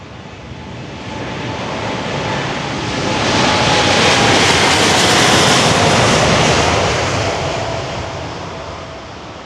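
A KLM Boeing 787-9 Dreamliner takes off at St. Maarten, its jet engines a loud, steady roar that swells in the middle and stays strong as the airliner departs close by, with no voices.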